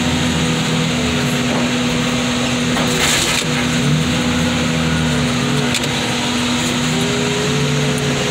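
A car crusher flattens cars and Cadillacs, a loud continuous grinding crunch of metal and frame over a steady machine hum, with sharper cracking bursts partway through and no talk.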